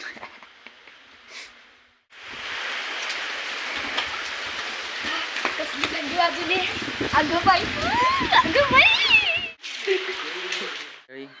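Rain patters steadily on a surface after a quiet start, a dense hiss that stops abruptly, with someone talking over it.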